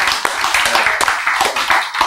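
Scattered audience clapping at a sermon, a handful of distinct close claps in an uneven rhythm over a brief moment, fairly loud, with no talk heard during it.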